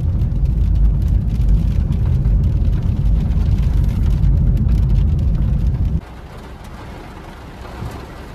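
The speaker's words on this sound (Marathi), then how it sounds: "स्वारगेट जवळ आलो तोपर्यंत एकदम जोरात पाऊस चालू झालाय आता इथं" Heavy rain pours down with steady road traffic on a city street near Swargate, Pune, a loud continuous wash of rain and engine noise that drops to a quieter hiss for the last couple of seconds.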